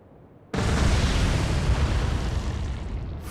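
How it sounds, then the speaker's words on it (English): Torpedoes strike HMS Hood in the naval video game Atlantic Fleet, one sudden heavy explosion erupting after a quiet moment and rolling on as a loud, sustained booming roar. "4 good hits of the torpedoes"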